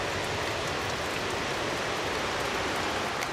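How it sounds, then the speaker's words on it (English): Rain falling outdoors at a roadside spot near small house coal mines at Grassy Creek in Webster County, West Virginia, a continuous even hiss with faint scattered drop ticks and no voices. "starting to rain on me"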